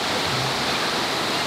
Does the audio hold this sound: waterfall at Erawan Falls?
yes